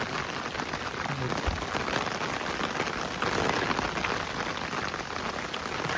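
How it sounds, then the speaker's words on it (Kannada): Heavy rain pours steadily near Udupi's temple, a dense, even hiss of drops on surfaces and umbrellas filling the whole stretch without a break, with no voices over it. "ನೋಡಿ ಹೋಗ್ತಾ ಇದ್ದೀವಿ, ಮಳೆ ಬರ್ತೈತೆ, ಜೋರಾಗಿ ಮಳೆ ಬರ್ತೈತೆ"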